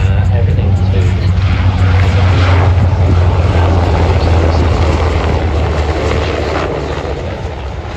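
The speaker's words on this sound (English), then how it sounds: "Bit of a high performance helicopter." A high-performance helicopter at the Avalon International Airshow drones steadily overhead with a loud, deep rotor thrum and engine roar that eases slightly toward the end.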